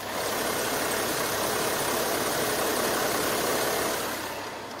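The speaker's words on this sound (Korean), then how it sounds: "이 정도의 엔진 소음 만나보실 수가 있는 차량입니다" A Kia Mohave 3.0 diesel 4WD idles with the hood closed, a steady, smooth broadband engine hum held at constant level throughout, close by with no talk over it.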